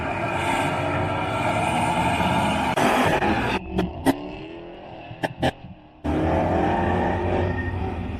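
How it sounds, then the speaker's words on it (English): A Dodge Demon drag car launches and accelerates at a night drag event, its engine roaring loudly before cutting off abruptly, followed by a few sharp bursts and then another loud roar of engine noise. "Kevin Smith of the Demon flying for traction out there"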